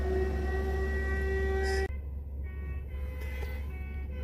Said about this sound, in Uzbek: Birdan sirenani yoqdi.